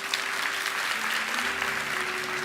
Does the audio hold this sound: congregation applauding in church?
yes